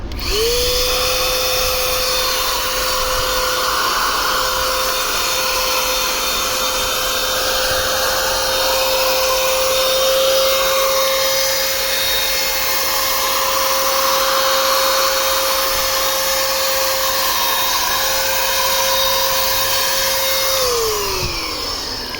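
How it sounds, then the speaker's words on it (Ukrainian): Loud continuous whine and hiss of a Revolt BSG 20/1 cordless paint sprayer with a 2.5 nozzle spraying water, holding a steady motor tone for about twenty seconds before winding down. "але дуже гарно розпилює"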